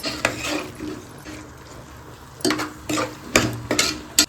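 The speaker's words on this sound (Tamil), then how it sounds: "நல்லா இதோட பச்சை வாசனை போகிற அளவுக்கு லைட்டாக வதக்கி வச்சுக்குவோம்" Carrot, potato, peas and tomato sauté in a pan for veg biryani, with a gentle frying hiss under clusters of loud stirring scrapes and clinks of a spoon against the pan.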